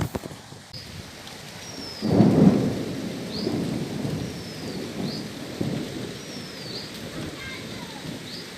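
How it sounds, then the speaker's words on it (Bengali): Rain pours steadily outdoors while thunder rolls in a deep, swelling rumble that rises after a couple of seconds and lingers under the constant patter. "বাইরেটা এখন হচ্ছে বৃষ্টি পড়ছে মেঘ ডাকছে"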